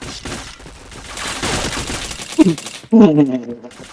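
Bursts of gunfire in a video game, a rattling volley followed by a sharp loud burst of shots, with game noise and a voice talking around them.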